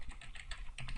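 Rapid, close clicking of keys on a computer keyboard while someone types commands, a dense run of light taps with no pauses.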